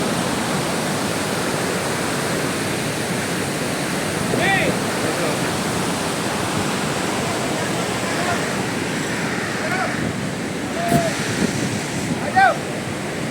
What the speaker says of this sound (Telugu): వాటర్ చాలా స్పీడ్ వెళ్ళిపోతుంది